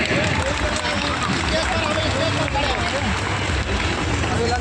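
A loud, dense wash of audience applause for Bina Yadav at a network-marketing company gathering in a hall, with steady crowd noise and chatter running unbroken throughout.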